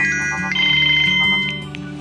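A mobile phone ringtone plays loud and close, a repeating electronic melody of bright tonal notes looping steadily with no one speaking over it.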